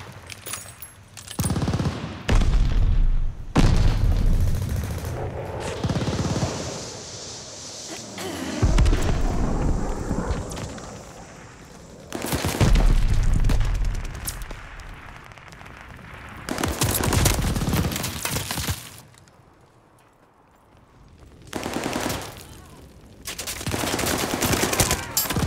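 A mortar barrage in the Call of Duty: Vanguard video game: heavy explosions and rattling gunfire arrive in loud, repeated bursts, separated by short quieter gaps.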